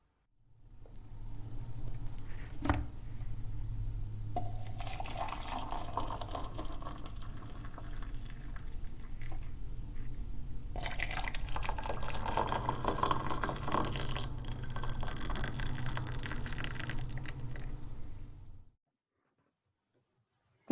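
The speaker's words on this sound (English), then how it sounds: "I'm going to pour us a cup of tea" A cup of tea being poured, a steady liquid stream running for most of the span, with a brief clink near the start, then stopping into silence.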